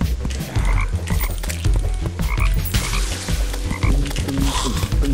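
Toads croak in the game Terraria, dense overlapping calls in a loud continuous chorus over a thumping game soundtrack, close and steady throughout.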